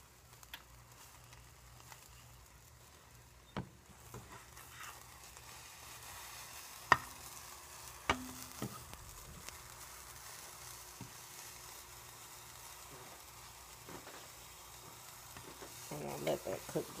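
Food frying in a hot pan just after being flipped, a soft steady sizzle with scattered louder clicks and scrapes, no talking.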